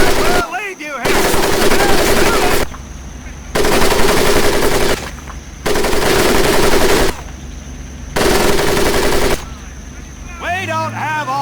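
Repeated loud bursts of machine gun fire sweep over a boot camp crawl course in the World War II shooter Medal of Honor: Pacific Assault, each sustained burst separated by short pauses, with brief shouted voices between them.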